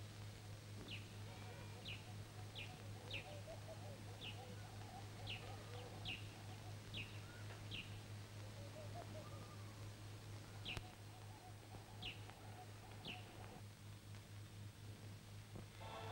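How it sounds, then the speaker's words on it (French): Wild birds calling inside the abandoned 17th-century palaces built by Moulay Ismaïl at Meknès: short, high chirps repeat sporadically throughout, fairly faint over a steady low hum. "Il n'abrite plus que les oiseaux sauvages."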